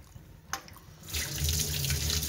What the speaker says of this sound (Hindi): अब मैं हाथ धो रहा हूँ,